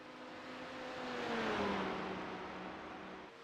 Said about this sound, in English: Oh, because that Porsche exhaust.